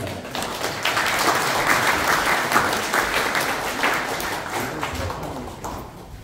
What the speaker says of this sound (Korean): 시장님 나오실 때 큰 박수 부탁드립니다.